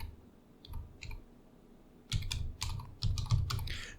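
Computer keyboard typing: a few sparse key clicks at first, then faster bursts of clattering keystrokes, close and fairly quiet, with no talking.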